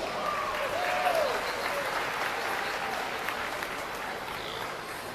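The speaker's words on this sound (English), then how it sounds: "Let's have a round of applause for Gary Childs." An audience at a youth fair swine showmanship show claps in steady, sustained applause, moderately loud and filling the venue, with a brief voice early on.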